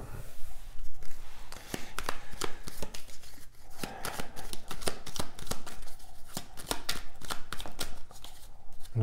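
Belline oracle cards being shuffled: a dense run of crisp, papery riffles and slaps, close and fairly loud, continuing without pause and with no voices.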